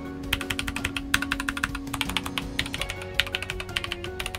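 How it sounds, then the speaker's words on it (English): Someone types on a HexGears X1 Pro, a 65% 68-key wireless mechanical keyboard, with a rapid, uneven stream of close, crisp keystroke clacks and a steady tone underneath. "Keyboard doesn't sound as hollow as I was expecting it to be"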